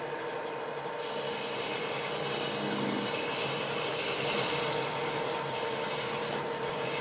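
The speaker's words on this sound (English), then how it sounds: "I'm going to buff it out with a soft cloth. I'm going to be spinning about 600 RPM." A soft cloth buffs a wood turning spinning on a lathe at about 600 RPM, a steady, continuous rushing rub over a constant motor whine with no breaks, close and fairly loud.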